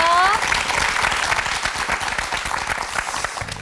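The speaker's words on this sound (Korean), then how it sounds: "앞으로도 더욱더 행복하시라고 저희가 응원의 박수 보내드릴게요" Audience applause for a couple on a Korean TV talk show, a dense, steady patter of many hands clapping close by for several seconds, with a brief voice at the very start.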